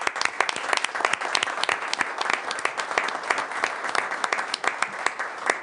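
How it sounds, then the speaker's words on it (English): Council meeting audience applauding after a resolution is adopted, a dense, steady round of many hands clapping that holds evenly throughout, fairly close and loud. "That's a good clap"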